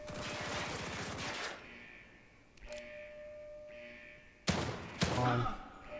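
Rapid gunfire bursts in The Evil Within 2, a dense burst up front, then a lull with game ambience and a couple of sharp, loud shots near the end.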